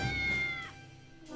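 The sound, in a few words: cat meowing in the video game Triangle Strategy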